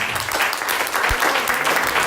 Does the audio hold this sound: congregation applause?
yes